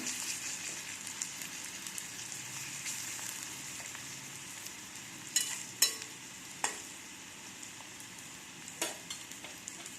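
Onions frying and being stirred in a pan for a Bengali-style cauliflower and spinach dish, a steady close sizzle broken by a few sharp scraping knocks of the spoon against the pan.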